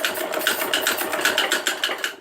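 A domestic sewing machine back-stitches men's front-cut underwear fabric, giving a steady, close mechanical whirr with rapid rhythmic needle pulses that runs on its own without any talk.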